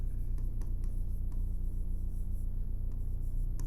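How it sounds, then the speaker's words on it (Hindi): Pen or marker writing steadily on a board or paper during a Class 9 geometry lesson on quadrilaterals, a continuous close scratching with brief strokes, over a low steady hum. "तो यहां पर मैं लिख दूंगा सिमिलरली"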